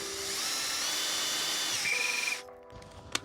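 A budget cordless drill from Temu whines at steady speed close by for over two seconds, its pitch stepping slightly before it cuts off, followed by a short click.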